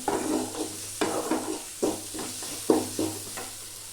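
Onions sautéing in oil in a pan, sizzling steadily while a spatula scrapes through them in regular strokes roughly every second, close and clear with no talking.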